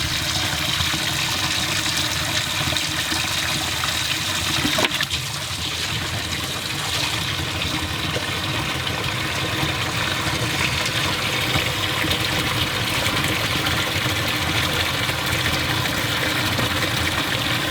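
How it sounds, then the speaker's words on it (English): Water steadily pours and circulates into a boat's livewell while its pumps run, a continuous, fairly loud rushing flow that holds even throughout without any talk. "we're going to let our live well pumps run for about 25 minutes to a half hour with this circulating in there"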